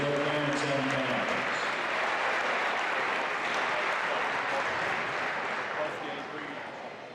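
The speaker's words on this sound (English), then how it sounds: "let's give a big round of applause for our senior Greenwood cheerleaders, their parents and families" Sustained applause from a gymnasium crowd at a girls' high school basketball game, honoring senior cheerleaders, steady and loud throughout before tapering slightly at the end.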